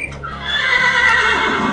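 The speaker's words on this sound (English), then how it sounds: "that horse is loud" A Minecraft horse neighs once, a loud, close whinny lasting over a second with a wavering, descending tone and faint clip-clop beneath.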